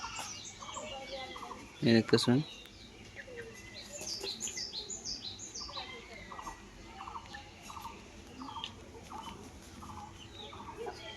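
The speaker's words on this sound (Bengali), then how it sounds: "এই দেখুন আমার মুরগি দেখছেন আপনারা, দেখুন মুরগি," Chickens on a small local poultry farm in Assam cluck and chirp in a continuous, busy chorus at close range, with a brief burst of a person talking near the start.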